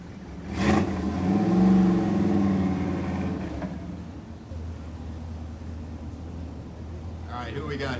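A 2010 Camaro at an exhaust competition, its engine blipped hard in neutral with the brake held. A loud, close burst of revving swells and fades, then settles to a steady idle rumble.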